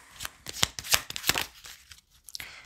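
Tarot cards being shuffled and flicked down in quick papery bursts, close up, with short pauses between the riffles and no talking.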